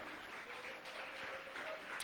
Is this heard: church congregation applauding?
yes